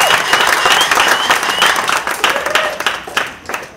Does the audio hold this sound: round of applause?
yes